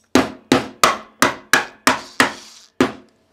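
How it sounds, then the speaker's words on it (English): Eight sharp hammer-like blows from a drill used as a hammer strike in a fairly even rhythm, each loud and close with a brief ringing decay. "you can always use a drill as a hammer"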